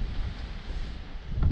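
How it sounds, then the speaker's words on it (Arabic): Strong wind blows hard outdoors on a desert road near a kasbah, a loud, steady roar that buffets the microphone with heavy low rumble throughout, and no voices. "الريح مجاد بزاف"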